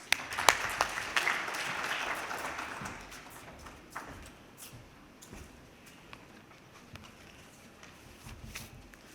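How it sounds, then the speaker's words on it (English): Audience applause at the Future Summit 2020 after the president of Engro Corporation is introduced, starting moderately loud with scattered claps and quickly thinning to sparse, faint claps. "A round of applause, please."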